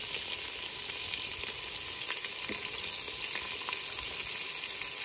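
Garam masala, chopped onion and green chili fry in oil with a steady, even sizzle and crackle, close and unbroken, with light stirring and no talk.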